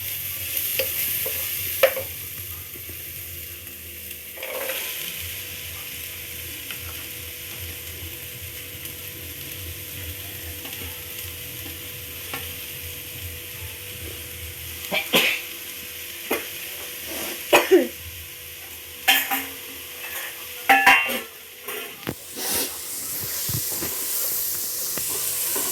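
Onions fry in hot oil with ginger and garlic for clam biryani, a low continuous sizzle with scattered scraping stirs and clatters from a utensil against the pan, growing busier toward the end.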